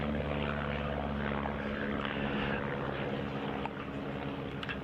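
A propeller aircraft flies a line-astern barrel roll at an RAF Cosford air show, its engine drone a steady, loud and continuous roar throughout, with no talking.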